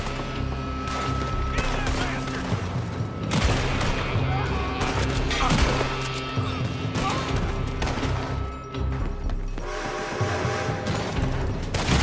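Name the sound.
gunfire in Red Dead Redemption 2 video game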